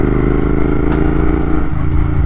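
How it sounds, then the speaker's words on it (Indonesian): A Royal Enfield motorcycle idles steadily and loud close by, its engine running continuously with a low rumbling thump throughout. "ini motor dia"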